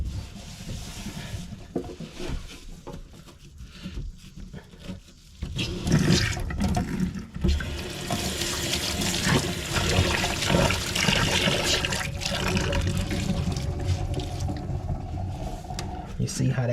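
Water rushes through a newly installed DIY drain, a loud continuous flow that swells partway through, with people talking over it.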